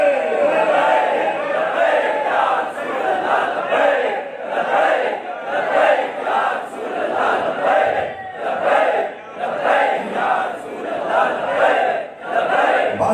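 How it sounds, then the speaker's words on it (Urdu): A crowd at a religious gathering chants Labbaik slogans in loud, rhythmic bursts, the many voices rising and falling in a steady repeating cadence that fills the whole stretch. "اج لبیک دے نعرے لا رہے ہو"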